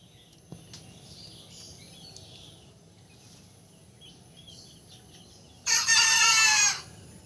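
Farm chickens, a flock over two months old, cluck softly in a steady background murmur before a rooster lets out a loud, close crow near the end.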